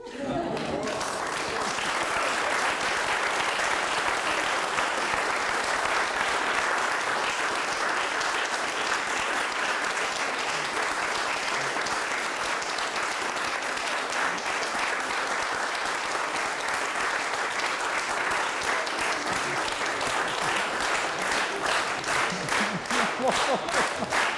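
An audience bursts into sustained applause, many hands clapping steadily and loudly for over twenty seconds without letting up.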